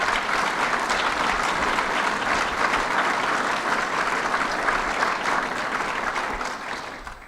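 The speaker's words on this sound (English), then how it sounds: "Let's give them a round of applause." Steady, loud audience applause at a governor's public event in Buffalo, continuous dense clapping that tapers slightly toward the end.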